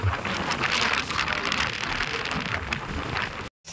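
Heavy downpour in Saswad, a dense close roar of rain drumming on surfaces with scattered sharper drop hits, steady throughout before cutting off abruptly near the end.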